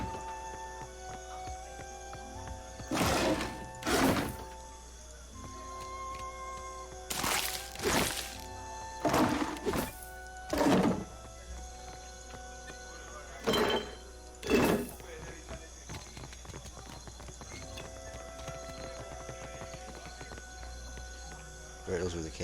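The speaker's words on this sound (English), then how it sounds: "those were the cannonballs, weren't they?" Cannon fire in the fantasy RPG Pillars of Eternity II: Magran's Fires comes as a series of sharp, cracking blasts in pairs and small clusters over a steady game ambience and music bed, fairly loud against the quieter background.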